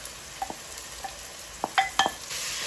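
Salt cod in oil gets stirred in a frying pan, giving a soft, quiet sizzle with a few light scraping clicks of the utensil against the pan.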